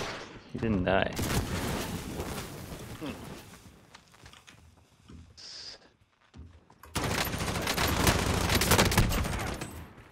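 Bursts of heavy .50-caliber gunfire in Warzone, loud volleys at the start and a sustained stretch near the end, with a quieter gap between and someone talking over the shooting.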